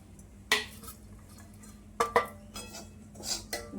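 Crushed peanut stuffing is mixed with spices in a bowl, with a spoon scraping and clinking against the bowl in a few sharp, close knocks over a soft stirring rustle.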